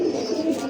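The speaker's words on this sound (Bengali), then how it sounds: "খুব সুন্দর একজোড়া সচন্দন কবুতর" A single soft, low coo from a pair of Sachandan pigeons, close and brief, heard on its own.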